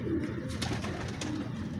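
Zag Cheena flying pigeons coo in a continuous low, throaty murmur, close by and fairly quiet, with no talk.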